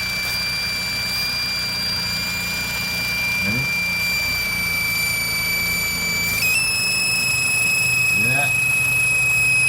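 A 2002-2006 Nissan Altima engine idles with a steady, piercing high-pitched squeal from an intake leak, the whine shifting in pitch partway through as brake cleaner is sprayed around the intake; brief voices speak over the running engine.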